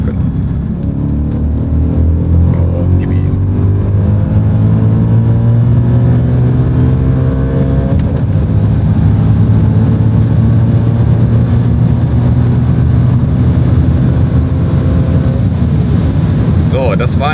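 An Audi RS4 B7 accelerates hard through a timed 100-200 km/h run on a flat road, its engine note climbing steadily in pitch as a loud, continuous drone heard from inside the cabin, with gear changes breaking the rise.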